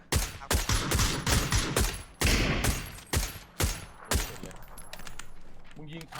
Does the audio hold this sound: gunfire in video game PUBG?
yes